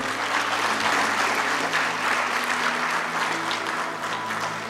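Sustained applause from a graduation ceremony audience, many hands clapping in a dense, even roar that stays strong from start to finish with only a slight easing near the end.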